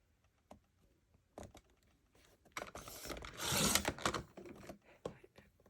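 A paper trimmer slicing a strip of scrapbook paper, with faint scattered clicks and slides followed by a louder rasping cutting stroke near the middle and a few quiet taps after it.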